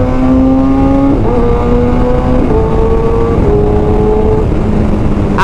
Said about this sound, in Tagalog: pakinggan nyo yung pag upshift and then pag downshift